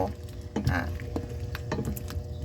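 A spatula stirs Korean rice cakes (tteokbokki) seasoned with salt in a pan, giving intermittent scraping clacks and soft squishing close by, with no talking.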